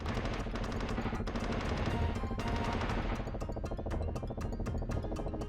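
Helicopter strafing in the Urban/Jungle/Desert Strike video game: dense, rapid machine-gun bursts rattle continuously and loudly with no pauses.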